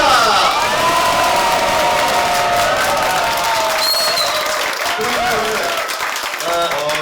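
A large audience at a live public radio broadcast applauds loudly and continuously, with cheers and whoops rising through it and voices talking over the crowd.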